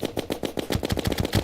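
Rapid automatic gunfire from guns in the video game Terraria: about a dozen quick, punchy shots in a fast, even rhythm, close and loud, with no voices.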